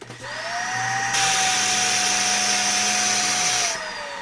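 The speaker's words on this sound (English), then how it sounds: "Let me turn this on. Let me plug this in. It's already plugged in. And let me vacuum up my rug" An old Sanitaire upright vacuum cleaner with a clog whines up to full power and roars steadily on a rug for a few seconds, pitch rising then falling, loud and close.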